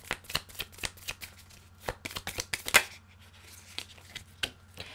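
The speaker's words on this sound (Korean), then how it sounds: "여기 오라클 카드에 추가 카드를 조금만 뽑아보도록 할게요." Oracle cards being shuffled and drawn for a weekly zodiac reading, giving a quick run of crisp, close card snaps and riffles in irregular bursts over a low steady hum, with no talking.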